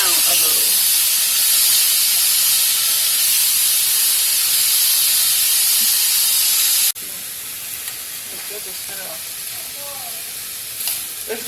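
Green onions and bean sprouts fry in a hot pan for special fried rice, giving a loud, steady, close sizzle and hiss. The sound drops abruptly to a softer sizzle partway through.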